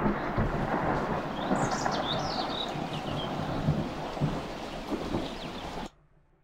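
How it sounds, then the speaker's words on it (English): Rain and thunder ambience built in Wwise for a field setting: steady dense rainfall with low rolling thunder rumbles throughout and faint bird chirps above, cutting off abruptly near the end. "it sounds like it wouldn't be that lively when there is rain and thunder"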